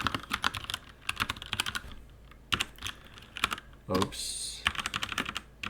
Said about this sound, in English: Sorry, my typing is kind of bad